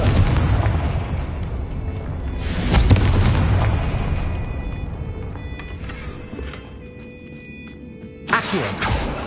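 A Confringo blasting spell detonates in the video game Hogwarts Legacy with a loud booming explosion, a second blast, and a long rumbling decay with faint tonal ringing before a final sharp impact near the end.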